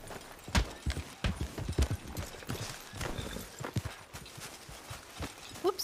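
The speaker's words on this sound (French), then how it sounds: "gaffe aux chevaux, hein." Horses trot in Red Dead Redemption, with irregular hollow hoof clops thudding at close range over a busy background, and a short high whinny-like sound right at the end.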